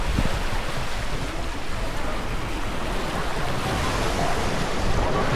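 Waves on the seafront at Paphos make a steady, broad roar of surf that runs unbroken throughout, with a layer of wind buffeting the microphone and no voices.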